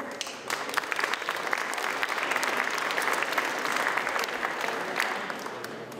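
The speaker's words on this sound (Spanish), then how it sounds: "Un aplauso para Jesús Rosete." Audience applause for a panelist at a panel on Indigenous peoples in big cities, a steady dense clapping crowd sustained for the full stretch at moderate loudness, with no voices standing out.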